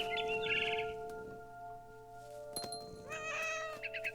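A cat meows twice, a drawn-out call at the start and a wavering one near the end, over a soft steady electronic tone, in the video game What Remains of Edith Finch.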